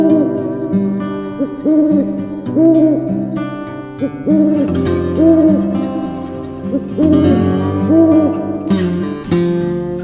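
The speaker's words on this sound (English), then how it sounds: "This is Owl." An owl hoots in a series of repeated, tonal, rounded calls that recur in an uneven rhythm, clear and prominent with no talking.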